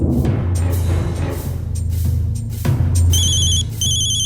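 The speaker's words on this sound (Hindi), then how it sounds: "वीर जी का फोन।" A phone rings with an incoming call, its electronic ringtone chiming loudly in repeated bursts over a low background hum, close and clear with no talking.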